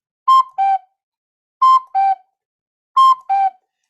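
A small toy whistle imitates a cuckoo with three evenly spaced two-note calls, each a higher tone dropping to a lower one, clear and close against silence.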